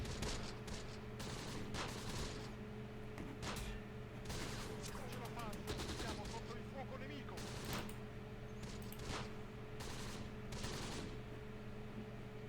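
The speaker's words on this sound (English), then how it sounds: "You can see he's already opening fire on us over here with his MG." Machine gun fire in the wartime tactics game Close Combat, rapid bursts of rattling shots over a constant humming backdrop, moderately loud, while someone talks throughout.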